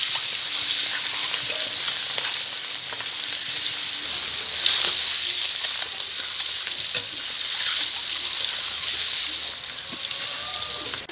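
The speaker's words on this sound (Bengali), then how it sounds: "ডিমগুলোকে আমি কড়া করে ভাজবো না, একদম হালকা করে ভেজে নেব।" Eggs frying lightly in a pan for a rural Bengali steamed-egg dish give a steady, close sizzle and hiss that runs unbroken, with faint crackles and no talk.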